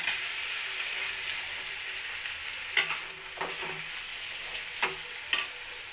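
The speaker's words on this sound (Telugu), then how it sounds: "సిమ్లోనే పెట్టి ఫ్రై చేయాలండి." Eggplant fries in oil over low heat with a soft, even sizzle, broken by a few sharp spoon taps and scrapes on the pan, close and fairly quiet, with no talking.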